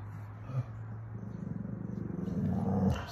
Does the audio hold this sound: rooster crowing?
no